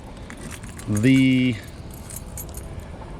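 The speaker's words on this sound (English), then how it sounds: "trying to get my keys." A bunch of keys jangles in one short, bright, metallic burst close by, over a low steady background hum, as a voice briefly speaks.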